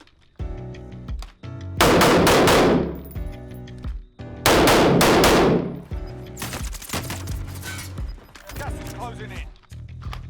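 Custom M4 rifle, "The Soulful Wanderer" in Call of Duty, fires loud rapid bursts at a shooting range: two long sustained volleys close together, followed by quieter scattered shots and game sounds.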